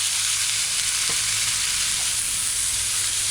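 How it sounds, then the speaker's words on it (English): Mixed vegetables are stirred into a simmering fish fillet stew in a pot, giving a steady broadband sizzle and bubbling hiss with a couple of faint utensil knocks against the pot. "Stir it in."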